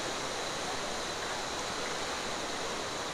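Kundal Shahi Waterfall in the Neelam Valley of Azad Kashmir roars as fast water pours down, giving a constant dense broadband rush with no break, close and enveloping, with no voices.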